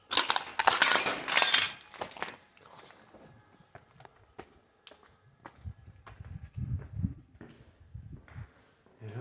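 Footsteps crunch over broken glass at an abandoned chapel camp site, starting with a loud burst of crushing and grinding, then thinning into scattered sharp clinks and softer crunches as the steps continue.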